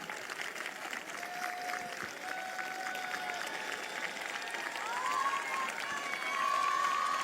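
Dense, continuous applause from a church congregation, hands clapping together steadily, with a thin held tone and some voices rising toward the end.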